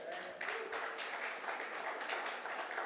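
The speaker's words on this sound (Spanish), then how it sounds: "Dale un aplauso al Señor por eso." A church congregation applauds the Lord, a fairly quiet but continuous patter of many hands clapping together, with faint voices mixed into the steady wash.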